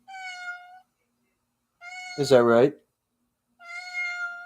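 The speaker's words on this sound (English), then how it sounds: "The cat is vocal." A cat meows three times in drawn-out, tonal calls spaced across the moment, close and clear, with a person's short spoken question overlapping the middle meow.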